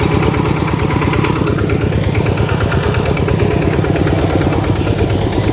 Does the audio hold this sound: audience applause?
no